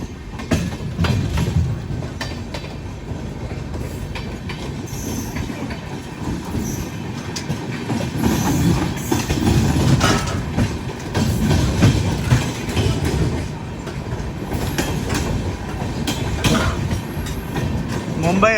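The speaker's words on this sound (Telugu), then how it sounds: "Mumbai LTT Sahasra junction, Amrit Bharat express cross over." Amrit Bharat Express train on the Mumbai LTT–Saharsa route passes close by, a steady heavy rumble of rolling wagons with wheel clatter and occasional squeals, continuous throughout with some voices faintly mixed in.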